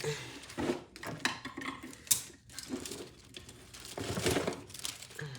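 Crinkly cellophane wrap rustles and crackles in bursts as it is handled, close by, with brief quiet gaps between crumples.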